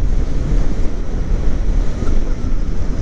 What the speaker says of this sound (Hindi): वही ठंडी हवा चल रही।